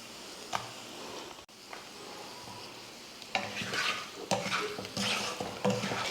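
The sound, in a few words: stirring boiled eggs into egg curry in a pan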